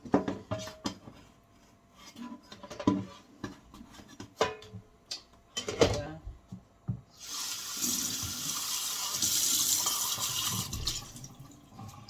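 After a few knocks and clatters, a kitchen tap runs steadily for about five seconds, rinsing out a container that held raw chicken stomach pieces; the flow is close and fairly loud, with no talking.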